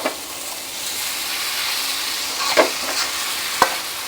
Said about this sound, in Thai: พอใส่น้ำปรุงแล้วมันจะแฉะหน่อยแล้วก็ผัดให้แห้งก่อน